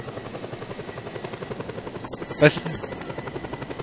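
A helicopter flying in the game Just Cause 2 gives a steady rhythmic rotor chop under a player's talk, with a short louder swoosh partway through.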